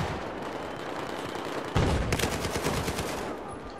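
Rapid bursts of Battlefield 4 gunfire rattle out, a steady automatic volley that picks up louder partway through, with a dense, processed game-like quality.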